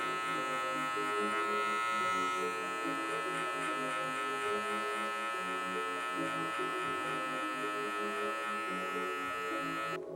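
Electric hair clippers with a 3/4 guard buzzing steadily while cutting a mid fade in a barbershop, a continuous close whine with a slight rhythmic pulse as they pass over the hair.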